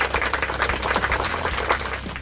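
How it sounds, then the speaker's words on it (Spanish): Audience applause greets a guest introduced at an educational presentation on the evolution of living things, a steady wash of many hands clapping, moderately loud and continuous throughout with no talk over it. "quiero que recibamos con un fuerte aplauso a Alfred Wallace"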